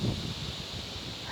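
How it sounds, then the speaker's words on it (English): Wind blows steadily through rustling leaves outdoors, a soft, even hiss with low gusty rumble, brief and fairly faint. "the wind has picked up"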